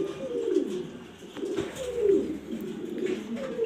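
Repeated low throaty coos of Giribaz pigeons in a loft, rolling in a steady rhythm, fairly close, with faint background hiss and no voices.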